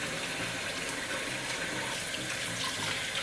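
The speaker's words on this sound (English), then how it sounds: "I'm just gonna wash my hands." Hands are washed under a running kitchen tap, a steady close splashing stream of water hitting the sink without pause for the whole stretch.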